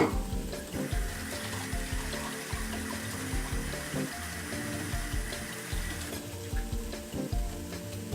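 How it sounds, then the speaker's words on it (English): A tap runs steadily into a sink while a bowl that held beaten egg is rinsed under it, a continuous close rushing splash with small knocks and shifts in the flow, no talking. "Now rinse this out so the egg doesn't dry and create a mess that you have to clean up."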